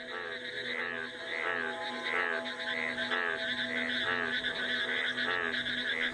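Frogs gathering in the Dehing Patkai rainforest, a dense, steady chorus of many overlapping croaks and trilling calls, loud and continuous with no pauses.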